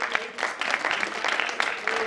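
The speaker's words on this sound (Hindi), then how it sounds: "इनके लिए भी आप लोग जोरदार तालियां बजाइए।" Loud, dense clapping from a crowd honours the cast of a Ramayana stage play, continuing steadily throughout with faint voices mixed in beneath it.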